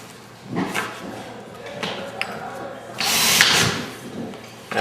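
A power drill drives screws into panels at a house construction site, with short whirring bursts and a longer high whine near the end. Background knocks and shuffling are also heard.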